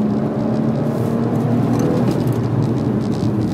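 A BMW 1M engine pulls hard on a racetrack, a loud, close, sustained drone with steady harmonic tones that holds for the whole stretch without any talk.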